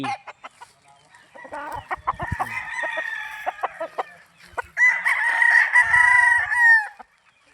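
A bullstag gamecock at a game farm in Tagaytay City crows in two clear bouts, the second louder and longer, with scattered clucks and short bird calls in between; no talking.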